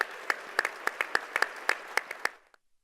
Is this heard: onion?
no